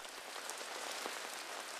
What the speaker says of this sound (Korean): 초겨울에 추위를 재촉하는 비가 내리는 어느 날